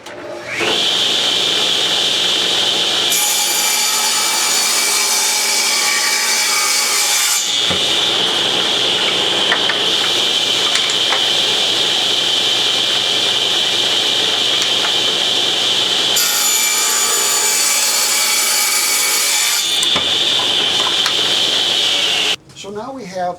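A table saw rips diagonals from a wooden board for a trivet puzzle, its loud steady whine running almost continuously with two heavier cutting stretches as the blade bites the wood, then cutting off near the end.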